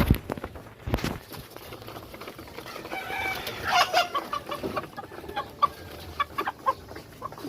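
A rooster clucks loudly and repeatedly close by during racing pigeon feeding time, with short sharp calls over a busy backdrop of birds and movement.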